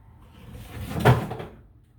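A door swung open in a cluttered room, a single soft wooden creak and thud swelling and fading within about a second, fairly close and alone.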